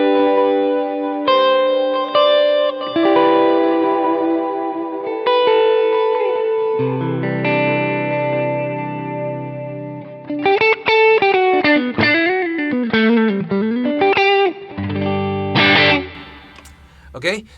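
A James Tyler Studio Elite HD guitar with its mid boost switched on plays clean, effect-laden notes and chords drenched in chorus and echo, with bending lead lines near the end, heard up close.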